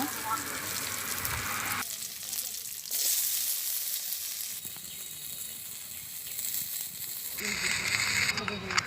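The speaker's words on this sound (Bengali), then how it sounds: "এখন এই তেলের মধ্যেই আমি আলুটা ভেজে নেব" Potatoes fry in oil in a home kitchen, a loud continuous crackling sizzle with shifts in intensity as they are stirred and moved about the pan.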